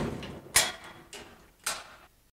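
Compartment door on a diesel air supply trailer being shut, several short metallic clacks and latching knocks in quick sequence, close and fairly quiet, then silence.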